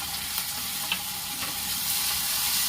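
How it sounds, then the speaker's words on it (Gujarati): Onions, tomatoes and green chillies fry in oil with a steady, close sizzle, while a spoon stirs through them in soft scraping strokes, and nobody talks. "આપણે ડુંગળીને અને ટમેટાને તેલમાં ચડવા દેવાના છે।"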